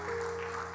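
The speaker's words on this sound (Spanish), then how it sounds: "dale un aplauso al Señor" A church congregation claps briefly and faintly during a Spanish-language service, a short, soft patter of applause over a low sustained tone.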